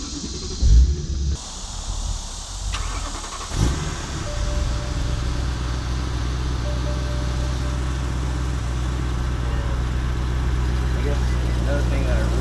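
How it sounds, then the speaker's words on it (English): A warm BMW M3 engine cranks and fires up with a short rev, then settles into a steady, deep idle that hums on evenly for several seconds. "I'm gonna do a start up for the car."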